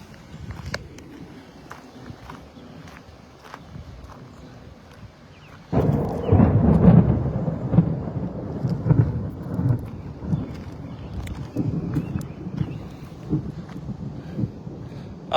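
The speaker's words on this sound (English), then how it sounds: "we're basically seeing these storms trade across the same areas over and over again" Thunder from a storm near Vincennes, Indiana breaks into a deep, sustained rumble after a quieter stretch of wind, then rolls on in heavy waves with light rain.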